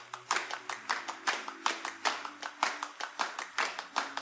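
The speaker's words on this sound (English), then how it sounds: "And then we have some claps and other kind of tinking sounds." Crisp hand claps and small tinking percussion hits in a pop song's verse drum track built around cajón, landing in a steady, even rhythm, close and dry with no voices.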